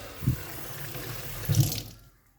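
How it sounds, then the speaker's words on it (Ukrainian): Water drains through a sewer pipe fitted with a valve, a steady close trickle broken by two gurgling surges before the flow fades away, with no voices. "вода стикає"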